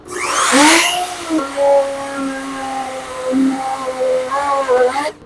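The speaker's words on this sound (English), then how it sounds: "I need a vacuum, so I'm just going to use my dust collector because the tray fills up with sawdust" A dust collector used as a vacuum sucks sawdust out of a router tray in a woodworking shop. Its steady motor whine rises and shifts in pitch as the nozzle moves, close and fairly loud for about five seconds.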